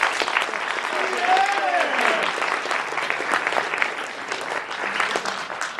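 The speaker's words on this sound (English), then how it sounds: "We should give them all a round of applause before we start." A school audience gives a full round of applause for Poetry Out Loud students, steady close clapping throughout with a brief cheer or voice rising near the start.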